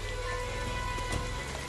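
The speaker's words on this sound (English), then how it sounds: "It's raining out there." Steady rain in the Friday the 13th video game, a constant dense hiss with a low rumble beneath and faint tonal game ambience running continuously, with no talk over it.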